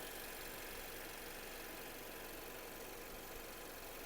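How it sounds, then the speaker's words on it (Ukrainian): A 2016 Volkswagen Passat B8 engine idles steadily with an even, smooth hum, heard up close and alone at a quiet level. "Двигун працює у нас чистенько, рівненько, без зауважень."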